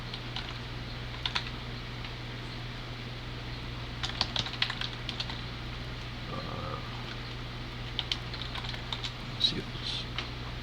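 Computer keyboard typing in scattered short bursts of soft key clicks, fairly faint and close, over a low steady hum, with brief bird-like chirps in the background.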